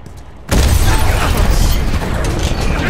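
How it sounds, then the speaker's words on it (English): An explosion in The Last of Us video game bursts in suddenly after a quiet moment, a loud, close boom followed by a thick rumbling roar that lingers for a couple of seconds, with a faint voice underneath. "some random explosion happening"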